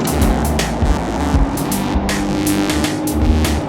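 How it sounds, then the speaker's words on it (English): Heavy trucks and cars rumble past a group of road cyclists, a loud close roar with tire and wind noise that swells and fades repeatedly as vehicles go by one after another. "all these trucks. There's another one."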